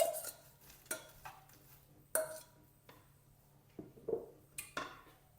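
Sliced leeks and onions get stirred in a pan, a spoon scraping and clinking against the metal in sharp, irregular strokes roughly every second, close and fairly quiet, with no talking.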